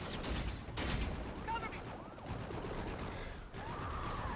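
Gunfire and battle noise in Call of Duty Infinite Warfare, bursts of shots and crackling impacts over a busy space-combat soundscape with some whooshing effects.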